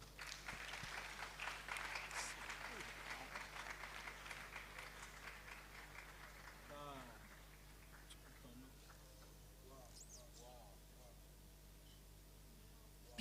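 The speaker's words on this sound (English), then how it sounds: "Please, let's keep clapping." An audience applauds at a pharmacy graduating students' induction ceremony, clapping loudly for several seconds before thinning out as voices take over at a lower level.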